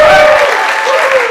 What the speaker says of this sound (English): Big round of applause for the Ashland Sarcasm Festival.